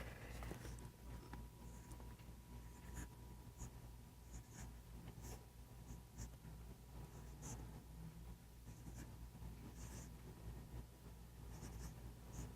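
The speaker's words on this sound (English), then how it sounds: "I'll erase that for you." Whiteboard writing being erased by a middle school math teacher in a classroom, a steady faint rubbing and scratching with soft taps throughout, no voices.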